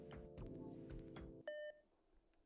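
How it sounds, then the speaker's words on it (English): Electronic buzzer in the Robot Arena 2 video game, a single sharp tonal beep after a burst of mechanical game noise, with a brief click at the end. "The buzzer signals the start of the match."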